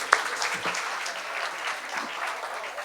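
Loud, sustained applause from an audience at a mushaira poetry gathering honoring the poet Rahat Indori, dense clapping filling the space with no clear speech.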